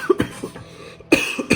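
Two short, harsh coughs from someone close by, one early and one after a brief pause, with a quieter breathy sound in between.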